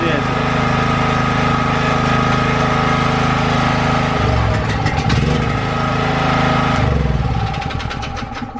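A gasoline generator runs under electrical load during its break-in. Its loud, continuous engine buzz dips and surges twice near the end as the load changes.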